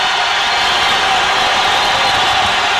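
Basketball arena crowd roaring in a steady, dense wall of cheering during the closing seconds of a 1990 Portland Trail Blazers vs. San Antonio Spurs playoff game, loud and continuous throughout.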